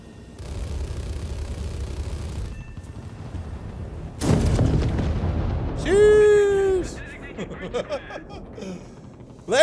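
An Italian fighter plane in a video game empties its guns on ground targets: a long rumbling stretch, then heavy booming bursts, over a shrill rising whine.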